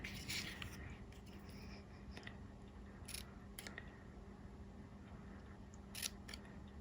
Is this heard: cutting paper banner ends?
yes